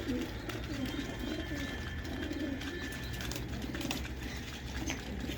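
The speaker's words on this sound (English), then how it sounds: "Pigeons," Domestic pigeons kept in cold weather coo low and steadily over a dense, continuous backdrop of other birds calling, with a faint voice or two mixed in.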